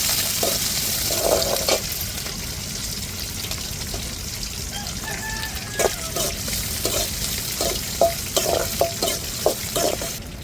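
Cinnamon and onion frying as a tempering in a pan, a steady hiss of sizzling oil with intermittent stirring scrapes and clinks.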